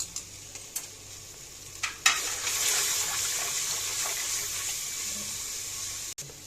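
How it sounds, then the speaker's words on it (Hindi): Spices fry in a pan for daal mash, a steady hiss of sizzling after a few clinks of stirring, close and fairly loud with no talking. "ये सारे मसाले अब इसके अंदर डालूंगी। 2 से 3 मिनट में इसको फ्राई करूंगी।"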